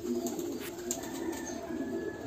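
Pigeons on a pigeon farm with young birds, giving soft, low continuous cooing and murmuring from several birds close by, with faint rustling and no voices.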